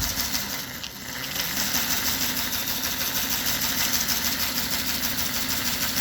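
A DC can motor driven by an MD135 motor driver and ESP32 runs steadily, a constant whirring hum that stays even throughout with a brief dip near the start.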